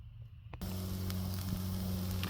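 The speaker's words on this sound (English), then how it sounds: "I don't know if you can hear that sizzling." After a quiet start, a sudden steady sizzle of vegetables sautéing in a bush pot begins, crackling evenly with a low hum underneath.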